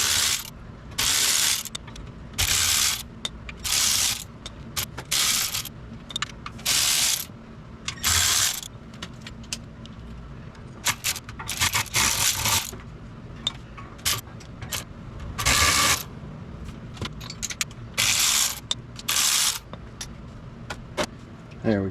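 Ratchet wrench undoing the bolts on a Jeep Commander rear differential cover, bursts of rapid clicking ratcheting with short pauses between, close and fairly loud, with occasional faint talk.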